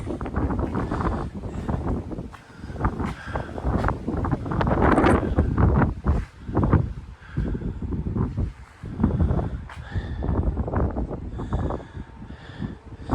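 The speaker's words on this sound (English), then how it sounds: "It's a little windy." Steady wind buffeting the microphone in loud, rumbling gusts that rise and fall throughout, with no talking.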